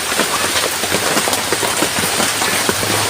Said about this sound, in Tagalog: hindi na tumitila yung ulan